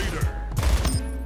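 Rapid bursts of gunfire in the video game Splitgate, loud and close, firing in a quick uneven rhythm over steady background game noise with no voice.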